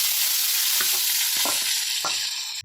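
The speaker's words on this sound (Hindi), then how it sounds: "अब हमने उसी कढ़ाई में साबूदाने को भी थोड़ा सा फ्राई करना है।" Sabudana (tapioca pearls) fry in a kadhai with a continuous loud hiss and sizzle, broken by a few soft scraping stirs, close up with no talking.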